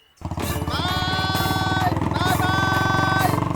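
A motorcycle engine idles loudly and steadily up close, with a rising rev partway through.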